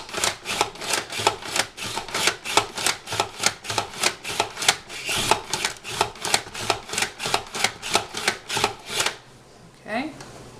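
Zucchini is sliced on a handheld vegetable cutter in a fast, even series of sharp clacking strokes, close and loud, ending in a brief quieter pause with light rustling.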